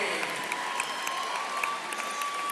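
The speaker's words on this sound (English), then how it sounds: "DCG, give him an applause, DCG." Crowd applause and cheering fill a gym at a boys varsity high school basketball game, a steady wash of clapping with scattered louder claps and whoops, continuous throughout.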